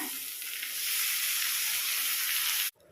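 Chopped tomatoes hit a pan of frying onions for an egg gravy, setting off a loud, steady broadband sizzle that holds for almost three seconds, then cuts off abruptly with no voices.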